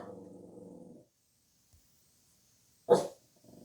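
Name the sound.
dog barking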